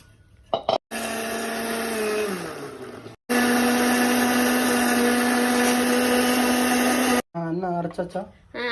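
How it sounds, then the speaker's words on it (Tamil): A mixer grinder whirs loudly while grinding masala for a mutton leg curry, running in two long steady bursts separated by a brief stop, with a short spell of talk at the very end. "கொஞ்சம் ஊற்றிட்டு நல்லா நைஸாக அரைக்கணும்"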